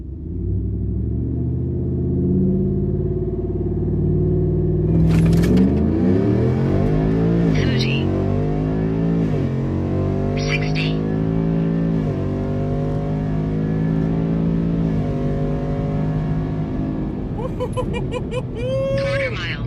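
Car fitted with SPD high flow catalytic converters, idling then launching hard down a quarter-mile run, engine climbing through repeated rising revs and gear shifts, loud and close, with brief voices near the end.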